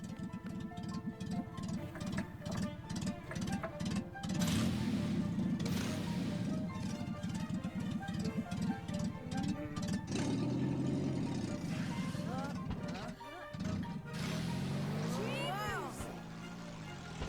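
A car engine in the Ni No Kuni video game rumbles and revs steadily beside busy game music, the pitch wavering up and down while a person talks over it.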